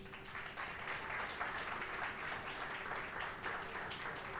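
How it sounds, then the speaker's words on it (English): Audience applause at a community event on future jobs, a steady wash of many hands clapping at moderate, fairly even loudness with no talk over it. "another round of applause for them"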